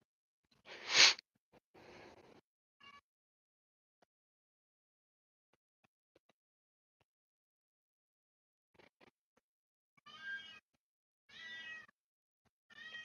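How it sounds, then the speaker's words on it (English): A house cat cries indoors, wanting into the bedroom: a loud meow, then scattered softer ones, and after a long quiet pause a run of three drawn-out, tonal meows close to the microphone. "Do y'all hear that cat?"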